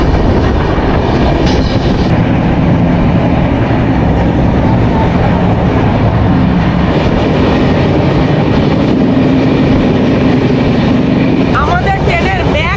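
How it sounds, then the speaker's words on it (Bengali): The 12857 Tamralipta Express pulls out of Howrah with a loud continuous rumble and rattling of carriages, heard from inside the train, with people talking underneath. "এখন কিন্তু আমাদের ট্রেন ছেড়ে দিল।"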